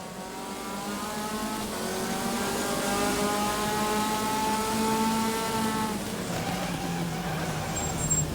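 A race car brakes hard into Druids hairpin at Brands Hatch Indy during an AMS MCR Championship race, its engine note falling steadily from a loud sustained drone, with no talk over it.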